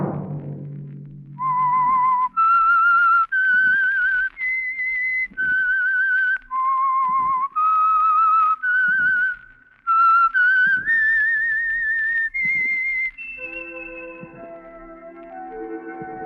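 A clear, melodic whistled tune from an old radio program, loud and close, moving through a series of sustained notes with brief breaks before settling into a final held tone.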